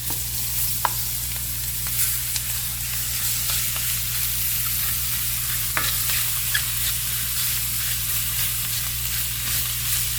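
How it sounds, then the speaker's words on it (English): Shrimp sear in smoking-hot olive oil in a pan, a loud, steady sizzle with scattered pops and crackles throughout. "then we are going to sear these shrimp for about 2 minutes on each side"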